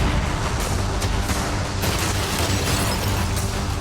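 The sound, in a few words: cannons firing at a yacht in a video game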